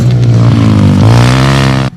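Loud, whiny racing engines, likely motorcycles or race cars at a motorsport event, hold a steady high drone with a rising pitch before cutting off abruptly near the end.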